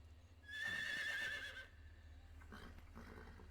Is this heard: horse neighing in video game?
yes